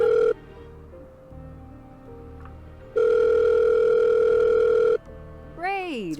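In the Murder on the Orient Express video game, a telephone line gives steady electronic tones in long unbroken blocks, the loudest running about two seconds. A short warbling sound closes the clip.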